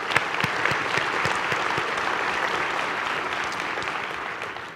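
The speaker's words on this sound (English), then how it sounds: "Really, a round of applause for all you guys." Audience at an afternoon leadership session giving a round of applause, dense steady clapping from a crowd that holds for several seconds and fades slightly at the end.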